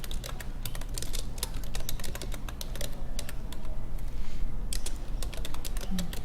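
Steady rapid typing on a computer keyboard while notes are entered, clicks continuous and close for the whole stretch with no talking.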